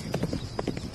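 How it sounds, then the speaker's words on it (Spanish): Hooves of a working horse on a fighting-bull ranch clip-clop in a quick, uneven rhythm, several distinct footfalls close by and moderately loud against light background noise. "El caballo. Siempre el caballo."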